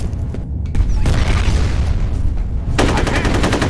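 Heavy booming blasts from a grenade going off in the multiplayer shooter F.E.A.R. Combat, a loud explosive burst that rumbles on, then a second sharp blast with crackling gunfire around it.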